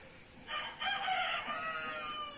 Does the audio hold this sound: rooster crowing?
yes